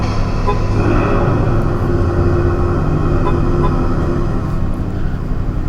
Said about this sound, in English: We will do a cold start so you guys can hear what the exhaust sounds like.